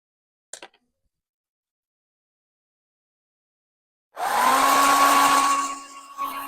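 A handheld dryer blowing on freshly stenciled black and red paint on a kitchen sign, starting abruptly after a brief click and a long silence, then a loud steady whir with a whine that dips near the end.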